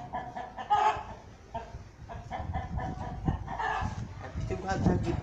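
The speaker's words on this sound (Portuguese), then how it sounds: "Agora é porque o galo tava gritando." Rooster crowing in a rural yard in Mamanguape, Paraíba, Brazil, among clucking chickens, the calls rising in bursts over steady background chatter and hens, with a dog faintly present and a voice talking nearby.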